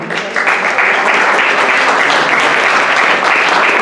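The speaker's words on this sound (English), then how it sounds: "giving a standing applause" Loud, steady standing ovation from a large lecture audience, a continuous wash of clapping that holds evenly from start to finish.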